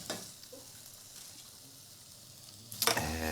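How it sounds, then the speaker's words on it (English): Chickpea and vegetable biryani with green beans stirred in a pan, a steady soft sizzle with faint scraping throughout, then a louder clatter of the spoon near the end. "And we'll just give it a good stir"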